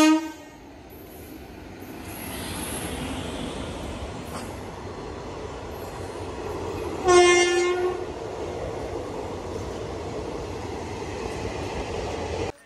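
A train at Yesvantpur railway station rumbles steadily past with a sustained roar, and midway a loud, nearby horn blast sounds for about a second before the rolling noise carries on.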